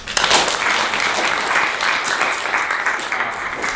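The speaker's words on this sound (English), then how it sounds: "give yourselves a round of applause" Summit attendees at a data-automation power user event applauding themselves, a dense, loud, sustained wash of clapping from a large room.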